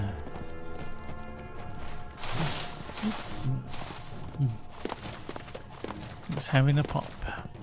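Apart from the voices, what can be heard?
horse riding hooves clip-clop in video game LOTRO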